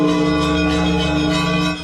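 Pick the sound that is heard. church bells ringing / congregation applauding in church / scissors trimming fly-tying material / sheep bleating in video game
church bells ringing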